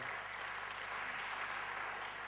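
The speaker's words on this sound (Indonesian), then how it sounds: "Tepuk tangan buat Tuhan kita." A church congregation applauds during a sermon, a dense, steady wash of clapping hands filling the room throughout without a break.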